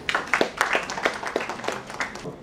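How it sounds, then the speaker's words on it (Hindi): Audience at a formal talk gives a speaker a round of handclaps, quiet and somewhat sparse, with distinct claps spaced unevenly over a couple of seconds. "सर के लिए ज़ोरदार तालियां।"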